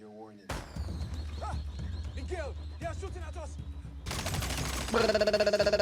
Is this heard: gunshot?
yes